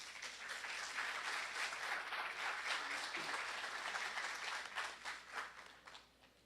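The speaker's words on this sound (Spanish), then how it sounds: "Un fuerte aplauso, doctor." An audience applauds a speaker introduced at a law conference on due process and pretrial detention in Peru: dense, sustained clapping from a roomful of people, fairly distant and soft, fading out over the final second.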